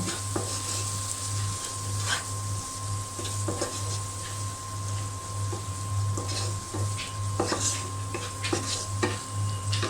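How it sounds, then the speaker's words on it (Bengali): Spice paste with chilli powder and salt is sautéed and stirred in a pan for a pangas fish curry, a steady sizzle broken by repeated scraping strokes of a spatula, with a constant low hum behind it. "এখন আমি মশলার সঙ্গে ভালো করে কষিয়ে নেব"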